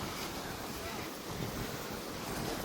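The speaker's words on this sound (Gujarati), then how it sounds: "અને આમ વરસાદ વરસે છે ભાઈ, ચાલુ થઈ ગયો છે" Rain falls outdoors on open farmland, a dense, even hiss filling the whole moment at low, steady volume with no other distinct sounds.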